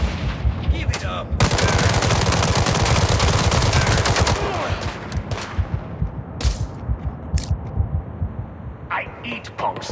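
Rapid automatic gunfire from Gangster Mirage City rattles loudly in a sustained burst for several seconds, then breaks into scattered shots with game voices talking around it.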